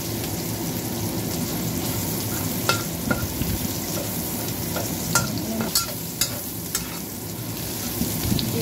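Shallots frying in hot cooking oil in a pan give a dense, close sizzle, broken by sharp stirring clicks and scrapes at uneven intervals.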